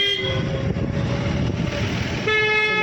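A car horn sounds twice, a toot at the start and a longer honk near the end, over steady road and traffic noise.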